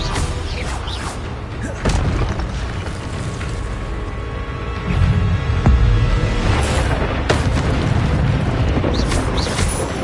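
An Incendio fire spell cast in a Hogwarts video game erupts in heavy booming bursts over a constant rumbling background, with a sharp thump near the start and a louder roar midway.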